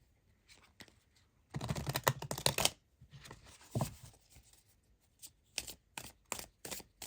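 Cards from the Radiant Sun tarot deck are shuffled in a dense, rustling burst, then drawn and laid down in a string of short, crisp slaps and flicks, close and quiet.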